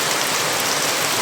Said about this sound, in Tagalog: Lakas na ulan guys.